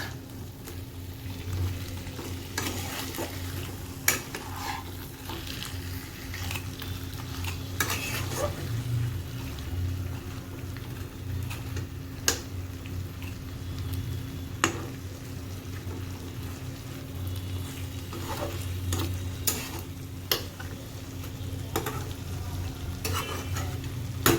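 Koi fish fry in oil and gravy in a pan, a steady low sizzle with repeated sharp clinks and scrapes of a utensil as the fish is stirred and coated, continuing at close range without talking.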